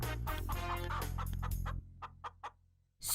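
A cartoon chicken in an animated fairy tale clucks in a few short, quick bursts after a stretch of loud music, fairly close and clear.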